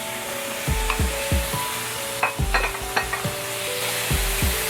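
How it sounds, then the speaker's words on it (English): Steady sizzling of prawns shallow frying in hot mustard oil, with repeated low clunks of a utensil stirring against the pan. "I am going to shallow fry it in some mustard oil now."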